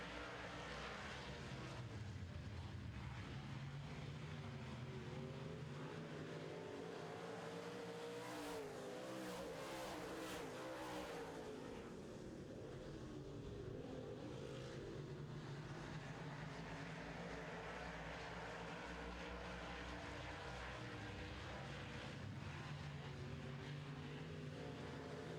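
Modified race cars screaming around a speedway during a heat race, a dense continuous engine roar with passing cars swelling and fading, loud and unbroken throughout, with no talking.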